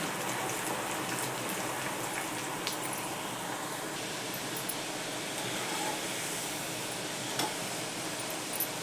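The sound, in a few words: chana dal being added to hot oil and frying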